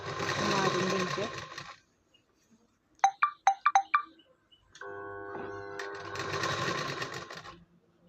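A sewing machine stitching a dhoti Patiala pant runs in two whirring bursts, separated by a pause with a short series of sharp ticking clicks and a steady electronic tone.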